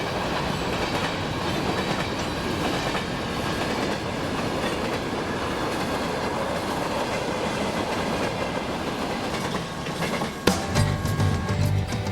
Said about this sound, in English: A short train of covered hoppers heads into town.